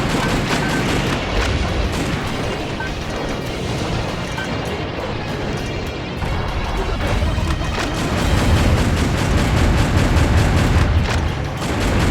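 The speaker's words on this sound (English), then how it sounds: "someone is throwing grenades at me" Grenade explosions and combat noise in the mech action game Metal Wolf Chaos XD, a continuous loud wash of booming blasts and gunfire-like bursts throughout, with no talk.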